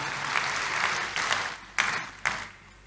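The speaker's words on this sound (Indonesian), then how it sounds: "Tepuk tangan dulu yang meriah buat Tuhan Yesus" Congregation applauding in a church service, a short burst of steady clapping that swells and then fades with a few final claps.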